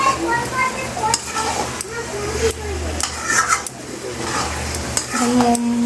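Marinated mutton being stir-fried (kosha) in a pan, with a steady sizzle and repeated scraping stirs of a spatula against the metal, close and continuous with occasional utensil clinks.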